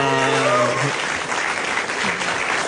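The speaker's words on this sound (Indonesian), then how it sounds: "Iya, tepuk tangan lo." A stand-up comedy audience claps for a comedian in a burst of applause, with a voice speaking over the start as the clapping carries on and fades slightly.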